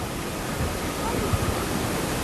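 Sea waves washing onto a seashore, a steady broad rush of surf filling the scene at close range with no voices.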